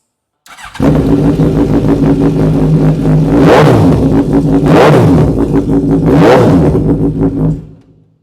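A motorcycle engine idles with a steady mechanical rumble, then revs sharply three times, each rise climbing high and dropping back, close and loud with no talking.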